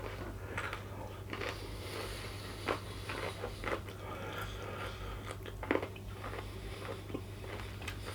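Crunchy Cajun onion rings bitten and chewed up close, with repeated crisp crackling crunches at an uneven pace and no talking over them.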